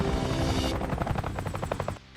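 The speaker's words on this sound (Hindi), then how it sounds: "हेलीकॉप्टर ऊपर घूम रहा है।" A helicopter circles overhead in an animated superhero city battle, a loud rapid rhythmic rotor thudding that takes over from a dense roar and runs steadily before cutting out abruptly.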